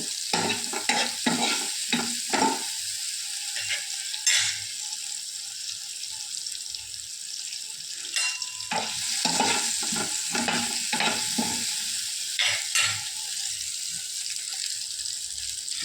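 Eggplant sautéing in a pan sizzles softly as a utensil stirs it in repeated scraping strokes, which come in clustered bursts over a low, steady frying hiss.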